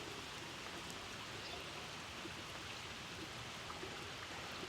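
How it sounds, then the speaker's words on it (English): Heavy rain pours on a forest trail in Monongahela National Forest during a bike tour, a dense, even hiss of drops that holds steady throughout with no voices. "See, this is some heavy rain."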